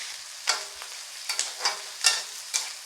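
Onions with green cardamom frying in a pan for paneer malai kofta: a steady soft sizzle broken by about five sharp stirring scrapes at a slow, even pace. No one speaks.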